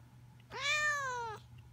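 A cat lets out a single clear, drawn-out complaining meow close by, lasting under a second, in an otherwise quiet room.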